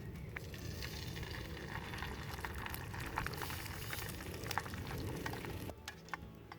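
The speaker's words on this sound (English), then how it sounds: "Number 1 is your spice mix, and that's going to go into the hot oil." Spice mix frying in hot oil in a pot over a wood fire, a steady close sizzle and crackle with bubbling that drops away near the end.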